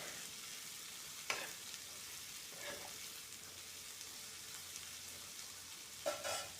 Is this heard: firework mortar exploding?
no